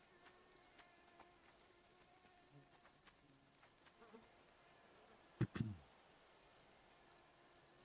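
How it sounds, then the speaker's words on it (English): A sheep in theHunter Classic gives a brief bleat partway through, set in a quiet outdoor ambience with buzzing insects and faint scattered chirps. "this big orange sheep here."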